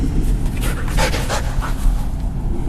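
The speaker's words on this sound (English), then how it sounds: "I love my dog, Benny." A dog pants close by in quick, breathy bursts, with a few faint whimpery notes mixed in over a steady low background rumble.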